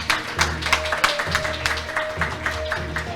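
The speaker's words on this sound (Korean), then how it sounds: "신임 병원장님께서 병원기를 힘차게 휘날려 주시면 큰 박수로 화답해 주시기 바랍니다." Rhythmic clapping from the audience at the Seoul St. Mary's Hospital director inauguration ceremony as the hospital flag is waved, moderately loud and pulsing over sustained background music.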